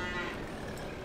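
A cow lows in Farming Simulator 22 on a Missouri farm, one drawn-out moo over a steady bed of game ambience and background noise, fairly close and clear.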